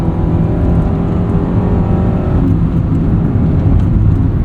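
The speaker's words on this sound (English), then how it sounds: "A bit more of a guttural, torquey sound to this D16." A 1995 Honda Civic Si with a D16 engine accelerating, heard from inside the car with the windows rolled up, a loud, steady droning engine hum with a low throaty tone that continues throughout.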